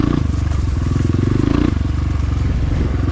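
A Rottor Titan 250 motorcycle accelerates hard across fallen leaves, its close, loud engine pulsing with a rapid, throbbing growl that surges and falls back.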